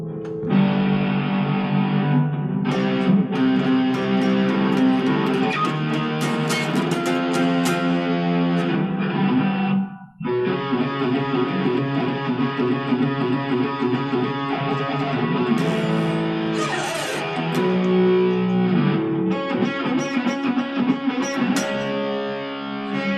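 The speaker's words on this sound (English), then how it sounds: "I'll change the guitar setting on the amp." Heavily distorted electric guitar playing chords and riffs through an amp, loud and continuous, with a brief pause near the middle before resuming.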